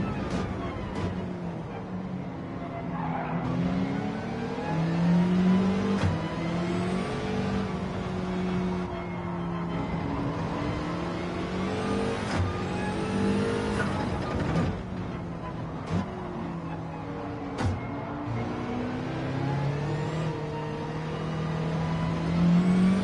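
A Subaru BRZ races in Gran Turismo 7, its engine note continuously rising and falling through gear changes with shifting whine and revs, steady and close throughout.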